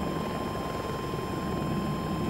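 A helicopter in the video game Battlefield 2042, a steady loud rotor drone with an engine whine, constant and close throughout.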